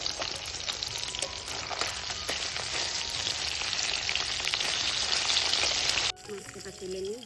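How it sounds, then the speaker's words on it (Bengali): Koi fish fry in hot oil in a wok after being turned, a loud, close, crackling sizzle that runs steadily before cutting to a much quieter background near the end. "মাছগুলো এবার উল্টে দিই।"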